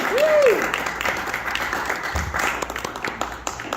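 Comedy club crowd at a stand-up show applauding and cheering for an incoming comic, a steady wash of clapping with a whistle near the start and scattered shouts, loud and close throughout.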